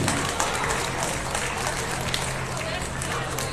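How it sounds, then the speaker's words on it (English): An audience at a beef show applauds the judge, dense steady clapping from a crowd that fills the whole short stretch at a fairly loud, even level. "how about a round of applause for our judge this evening, Darren Lowe"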